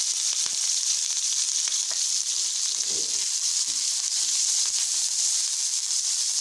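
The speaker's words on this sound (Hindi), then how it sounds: "अब हम इसी मसाले के अंदर जो है 4 अदद मैंने ग्रीन चिली काट ली बारीक," Four finely chopped green chilies go into hot masala for aloo vada pav, which keeps up a dense, steady frying sizzle close by with small crackles and no talking.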